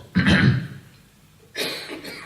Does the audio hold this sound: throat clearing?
yes